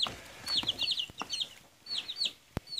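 Baby chicks peep in quick bursts of high, thin chirps, repeated on and off at close range, with a few soft knocks and taps between the calls.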